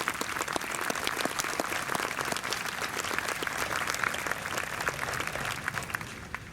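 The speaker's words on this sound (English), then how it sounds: "So let's give them a round of applause." An outdoor crowd at a bandshell lighting dedication applauds the lighting contractor, with steady, dense clapping at an even level throughout and individual hand claps audible in the mix.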